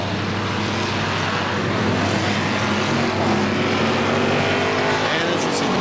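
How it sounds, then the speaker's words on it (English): Race cars sweep through turn 2 at KilKare Speedway, a dirt oval, making a continuous loud engine roar with steady broadband noise throughout. "Cars come through turn 2, picking up a little bit of dust there."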